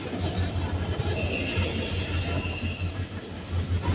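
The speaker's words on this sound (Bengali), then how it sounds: "তো চলে আসলো ট্রেন নম্বর 727 আপ রূপসা এক্সপ্রেস, যেটি খুলনা থেকে চিলাহাটির মধ্যে চলাচলকারী একটি আন্তনগর ট্রেন।" Rupsha Express, an intercity train hauled by an EMD locomotive, rolling into Poradah Junction station; a steady low rumble of the passing train continues throughout with a faint hiss, nearby and moderately loud, with no talk.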